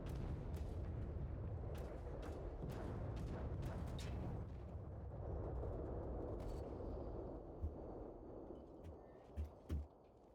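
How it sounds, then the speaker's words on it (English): Orbital strike explosions rumble in SAND: Raiders of Sophie, a dense sustained barrage of booms and crackling impacts at moderate distance, thinning out near the end with a few isolated thuds. "we don't want to get too close into the orbital strike here"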